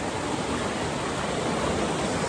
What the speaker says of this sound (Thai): น้ำตกแบบนี้นะครับ ที่น้ำไหลเชี่ยว